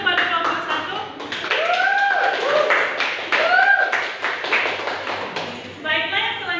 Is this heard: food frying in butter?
no